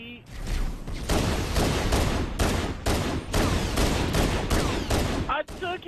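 Gunfire in Halo Anniversary co-op aimed at a Ghost vehicle, with rapid bursts of shots repeating across several seconds, loud and close, under game noise.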